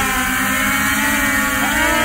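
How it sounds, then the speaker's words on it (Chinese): A DJI drone loaded with a cup of water, its motors spinning up for takeoff: a loud, close, steady buzzing whine that swells slightly in pitch near the end. "现在我们在这个圈里面直接来个起飞，来，我们解锁飞机的电机"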